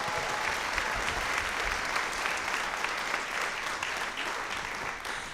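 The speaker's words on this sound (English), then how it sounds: "One more round of applause." Audience applause at a school spring concert for a wind ensemble, string orchestra and choir, a dense steady clapping from a large crowd that carries on for several seconds before easing slightly.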